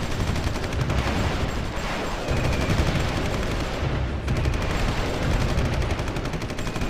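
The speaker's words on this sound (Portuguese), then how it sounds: "Agora tá atirando." Sustained gunfire from the war strategy game Supreme Ruler Ultimate, dense rapid machine-gun bursts forming a loud continuous rattle with a brief lull midway.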